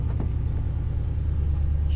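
A 2013 Porsche Cayenne Turbo idles with a deep, steady low growl close by, a constant rumbling engine tone with no revving and no one speaking.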